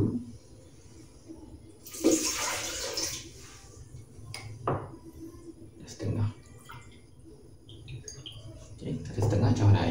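Water, one and a half cups, pours into a cooking pot for spaghetti carbonara, giving a splashing gush followed by shorter splashes and drips, with a voice speaking and kitchen clatter.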